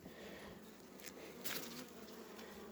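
Honey bees buzzing at a beehive colony during a spring apiary visit: a dense, steady swarm drone, close and continuous, with no voices.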